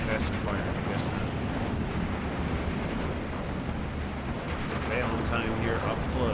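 Steady machine gun fire and distant combat rumble from a Steel Division 2 battle, including an LMG firing about 465 rounds a minute, form a continuous dense wash of shots at even loudness throughout.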